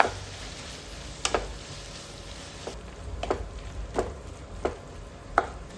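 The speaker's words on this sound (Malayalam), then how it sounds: "ഇനി അതും നല്ലപോലെ ഒന്ന് ഇളക്കി കൊടുക്കണം." Dragon chicken with chilli sauce and soy sauce is stirred in a pan over a soft, steady sizzle, with about half a dozen sharp scraping clicks of the spoon coming at irregular intervals.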